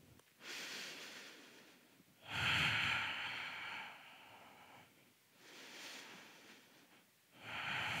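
Slow, deep breaths during a yoga forward fold in a vinyasa class: three long, audible airy inhale–exhale cycles, close and soft, with breathy, nasal rushes rising and falling alone without talk.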